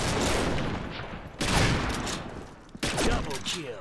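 Sniper rifle fire in the online shooter Combat Arms, with loud sharp shots at about 1.4 and 2.8 seconds over busy game noise and someone talking.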